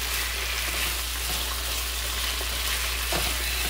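Onions and fresh peppercorns being tossed in a hot pan, giving a constant broad sizzling hiss with faint stirring scrapes, steady and close over a low background hum.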